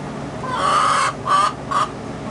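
A rooster crows nearby, a drawn-out call followed by two shorter bursts, loud over a quiet background.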